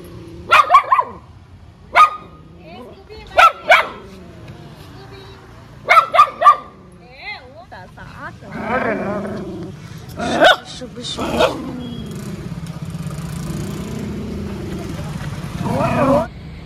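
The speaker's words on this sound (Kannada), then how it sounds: "ಯಾವ್ದಾರೆ ಬೇರೆ ನಾಯಿ ಕಂಡ್ರೆ ಇಷ್ಟು ಬೊಂಬಾಟ್ ಮಾಡ್ತಾಳು" A pet dog barks at another dog in sharp, loud bursts of several yaps, spaced out over the stretch, with people talking in between and around the barking.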